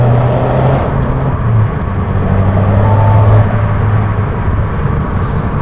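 Loud, deep exhaust roar from an Audi A4 turbo diesel with a dual exhaust, climbing in pitch as the revs build, a powerful continuous drone with no voices.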